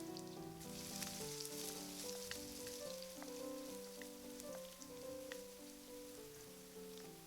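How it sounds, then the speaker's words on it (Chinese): Garlic and dried shrimp stir-fry in hot oil in a wok over high heat, giving a soft, steady sizzle that stays faint under quiet tonal background music. "大火把锅烧热，放适量的油，先放蒜，然后虾皮"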